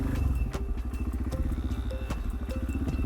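A motorcycle engine runs along a green lane trail, a close, loud, steady drone with a fast pulsing rhythm that holds for the whole stretch.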